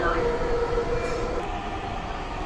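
A Dhaka metro rail train rumbling between stations, heard from inside as a loud continuous roar with a low droning hum and faint high squeals.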